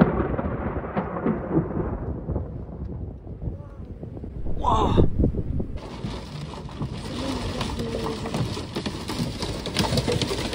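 Thunder from a storm rolling through a valley, heavy low rumbles swelling and fading under steady rain, with a brief high bird-like chirp and a noisy hiss of rain picking up partway through.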